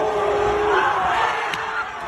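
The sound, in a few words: kids cheering a suplex in a school fight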